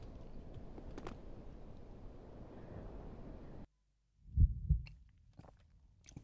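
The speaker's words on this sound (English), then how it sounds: "The heartbeat you hear when you enter." Heartbeat sound effect on entering an area in the video game Anarchy Online: a low, muffled double thump after a sudden cut to quiet, faint and alone, with a few softer knocks following.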